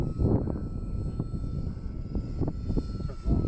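A radio-controlled Harrier model airplane flies in gusty wind, its motor droning steadily at moderate distance while wind rumbles and buffets the microphone.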